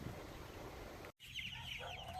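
Chickens clucking in chicken tractors out on pasture, a cluster of busy clucks and higher squawks close by. Wind or outdoor noise fills the first half, then a brief cut leads into clearer calls.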